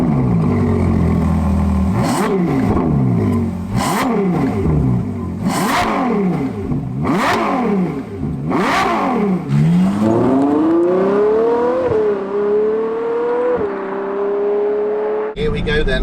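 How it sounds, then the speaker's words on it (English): A Ferrari 812 GTS V12 engine revs hard and loud at the start of a drive, climbing in repeated sharp bursts, then settling into a steady rising pull as the car accelerates away. "Here we go then, my first drive in an 812 GTS."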